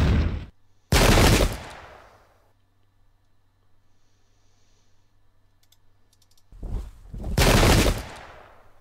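Musket gunfire volleys in the video game Pike and Shot Campaigns: two loud, crackling volleys, each lasting under a second, with a long quiet stretch between them holding faint clicking.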